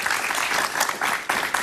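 Studio audience applauding a guest on Jaime Bayly's television talk show, a dense, steady burst of clapping that fills the whole short moment at close range with no voices.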